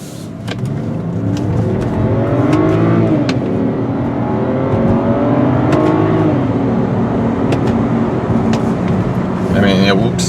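A gray 2008 BMW 528xi accelerates hard in manual sport mode, its engine note rising and shifting through gears for about ten seconds, loud and close from inside the cabin, with occasional talk over it.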